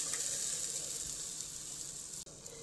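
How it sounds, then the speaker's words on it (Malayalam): Hot water pours steadily into a simmering Kottayam fish curry gravy, a continuous close rushing hiss that breaks off briefly near the end. "ഇനി നമുക്ക് ഗ്രേവിക്ക് ആവശ്യമായ അല്പം ചൂടുവെള്ളം നമുക്ക് ഒഴിച്ചു കൊടുക്കാം"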